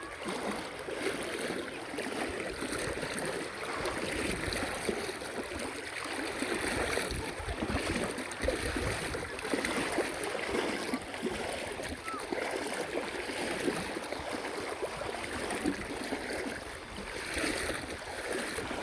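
Sea water rushing and splashing around a small boat, a continuous loud wash of waves and spray close by throughout, with no clear breaks.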